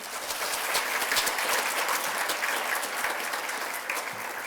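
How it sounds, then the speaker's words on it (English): A conference audience applauds selected early career scientists at a plenary session, dense even clapping holding steady throughout, fairly distant in a large hall. "So let's give them a clap too."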